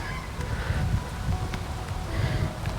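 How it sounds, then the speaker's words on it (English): Wind gusts across the microphone in an outdoor backyard, a steady low rumbling buffet with rustling texture, close and continuous for a few seconds. "Go away, wind."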